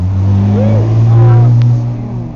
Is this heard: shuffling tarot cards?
no